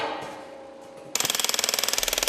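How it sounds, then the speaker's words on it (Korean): Workshop noise gives way to a loud, rapid, steady burst of hammer blows as hardened casting sand is knocked off the mold of a bronze Korean temple bell after casting. "작업장에 망치 소리가 울려 퍼진다."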